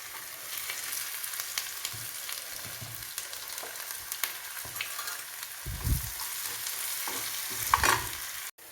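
Ginger and garlic frying in oil for chicken pickle, a soft continuous sizzle with occasional spoon scrapes and stirring knocks, a little louder near the end, with no voices.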